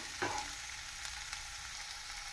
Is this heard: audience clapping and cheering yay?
no